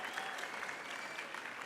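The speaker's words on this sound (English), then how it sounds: "Can we also give her a big round of applause?" Applause from a graduation audience fills the hall, a dense, even patter of many hands clapping at a moderate, somewhat distant level, with no voices rising above it.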